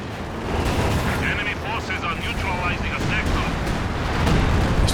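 Artillery barrage in the Company of Heroes 2 video game during a 2v2 match, a dense rumble of explosions and distant booms layered with battlefield noise while a commentator talks over it.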